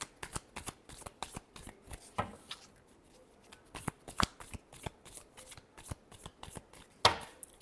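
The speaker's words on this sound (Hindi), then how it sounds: "Last shuffle." A deck of playing cards is shuffled by hand in a string of crisp riffling bursts with brief pauses between them, close and clear with no talking.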